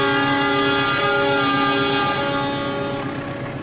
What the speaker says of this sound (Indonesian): 8 kah bunyikan suling?